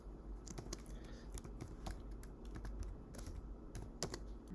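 Rapid typing on a computer keyboard while entering plotted parabola points into an online graphing calculator; irregular clusters of close, crisp key taps run steadily throughout over a faint background hum.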